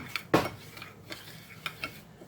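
A utensil mixing ingredients in a bowl, a handful of close, light clinks and scrapes at an irregular pace with quiet gaps between them.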